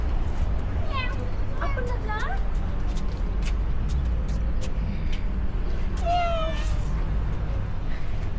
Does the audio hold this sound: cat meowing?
yes